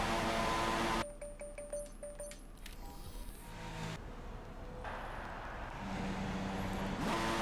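Formula One race cars idle and rev on the formation lap at Monaco in the F1 2016 video game: a loud, steady engine drone with whining tonal harmonics that shifts pitch partway through, with no talk.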